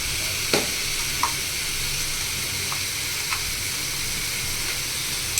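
Ginger garlic paste sautés for a chicken gravy, a dense continuous sizzle and hiss of hot oil with a few faint stirring taps, close and steady with no talk.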